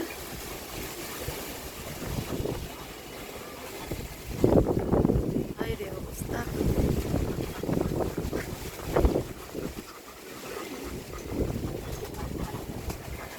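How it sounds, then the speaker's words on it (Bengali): Strong wind of a Baishakhi storm buffets the microphone on a rooftop garden in surging gusts, rising and falling with loud rumbling rushes, while a voice talks intermittently. "বাতাস হচ্ছে"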